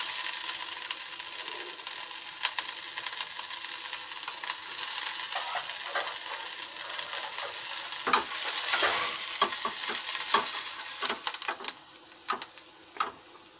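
Green chillies frying with ginger in a pan for mixed vegetables, a steady close sizzle broken by repeated spatula scrapes and clinks, growing busier toward the end, with no voices.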